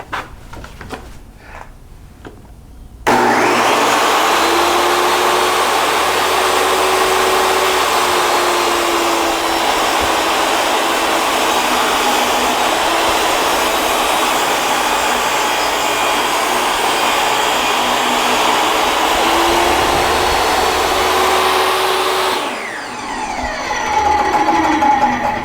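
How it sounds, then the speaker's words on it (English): A table saw rips a little over a quarter inch off the side of a wooden table piece: a steady, loud whining buzz of the blade through the cut, lasting about twenty seconds before spinning down, with no talking. "I've got the table saw set off to take a little over 1/4 inch off of this"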